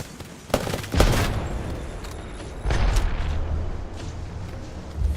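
Heavy gunfire in the Apex Legends video game, a dense burst of loud, close shots and booming impacts with rapid automatic firing, two sharp blasts near the start and another surge of shooting partway through.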